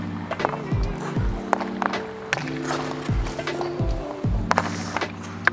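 Ice hockey puck snapped with a stick on an ice rink during wrist-shot and passing practice: several sharp scraping clacks and glides of blade and puck on ice, close by, repeating irregularly over faint rink ambience.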